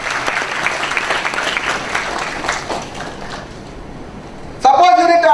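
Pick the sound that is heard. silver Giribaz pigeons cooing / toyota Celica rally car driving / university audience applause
university audience applause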